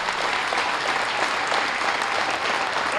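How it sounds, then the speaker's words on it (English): Steady, dense audience applause at a youth swine show, honoring a young exhibitor with her partial belted gilt; broad, even clapping holds at full strength throughout with no pauses. "Young lady with your gilt, with the partial belted gilt, let's give her a nice round of applause."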